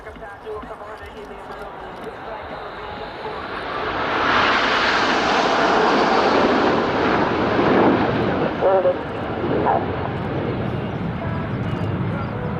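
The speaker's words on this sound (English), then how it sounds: "The Red Arrows are now forming the shape of a Lancaster bomber in commemoration of 70 years since the Dambusters raid." Red Arrows jets fly a formation display at Volkel air base, a broad jet roar swelling from a distant rumble to a loud, sustained pass overhead while a commentator talks throughout.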